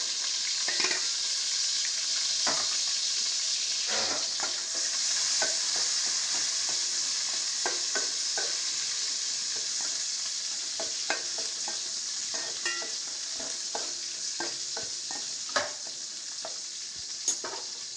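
Onions, chillies, cumin, mustard seeds and chana dal frying in hot oil, a steady close sizzle broken by frequent small pops and crackles, with occasional stirring scrapes.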